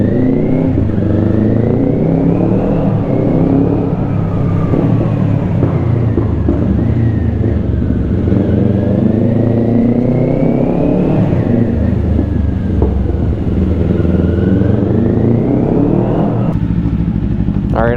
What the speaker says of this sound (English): I'm gonna keep my visor open so that maybe you guys can hear some exhaust